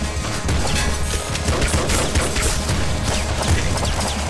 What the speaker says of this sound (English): Triple machine gun! Take this, you boss!